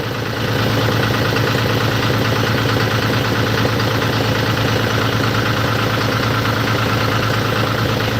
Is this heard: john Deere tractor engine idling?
yes